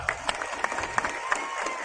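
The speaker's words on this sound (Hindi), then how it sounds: "जोरदार ताली मारो, जोरदार" A village crowd at a gram panchayat first-anniversary gathering in Bacheli claps in scattered, uneven bursts, with a few sharper claps standing out over faint crowd murmur at a moderate distance.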